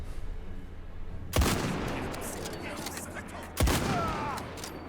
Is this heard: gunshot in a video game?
yes